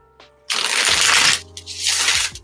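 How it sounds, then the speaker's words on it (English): Tarot cards shuffled close up in two loud riffling bursts, each lasting under a second, with a short gap between them. "I'm going to go ahead and get my cards all shuffled"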